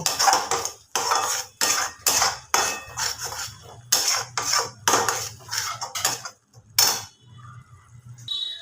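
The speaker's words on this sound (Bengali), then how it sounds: "এইটুকু টক দই নিয়েছি ওটা আমি একটু ফেটিয়ে নেবো" A spoon whisking sour yogurt in a bowl, fast rhythmic clinking and scraping strokes coming in steady bursts with short pauses between them, close and fairly loud.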